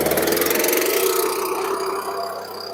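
A small engine running at half choke gives a close, steady mechanical drone with a rapid pulsing beat, idling on its own without changes in speed.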